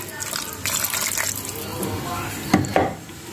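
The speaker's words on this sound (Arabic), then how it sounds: "هنزل برده الشوربه عليها كده برده" Broth pours over a pot of stuffed peppers and zucchini, a close, steady splashing stream lasting a couple of seconds before a pair of sharp clunks as the pot or pan is set down.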